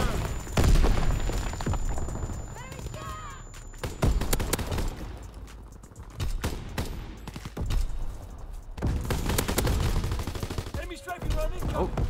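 Bombs explode amid bursts of machine-gun fire in Call of Duty WW2, loud, close booms and rattling automatic fire filling the scene, with a voice talking anxiously over the battle.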